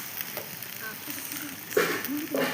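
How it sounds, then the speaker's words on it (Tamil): Tomato sautéing in a pan for fried rice with a little red chili sauce, a soft low sizzle broken by a few louder stirring scrapes toward the end. "டொமேட்டோ, அப்படியே வதக்கிக்கிட்டே இருங்க"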